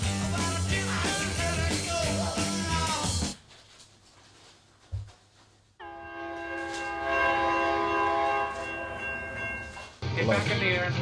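A train with a blaring horn, heard as a sound effect: loud sustained horn blasts separated by brief pauses and rumbling, with voices talking around them.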